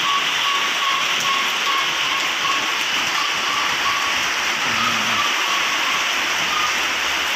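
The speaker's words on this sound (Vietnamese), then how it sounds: "Trời mưa nguyên ngày từ hồi sáng giờ luôn, mọi người thấy không?" Steady, cold all-day rain during a storm makes a constant, even hiss with no breaks, with no voices over it.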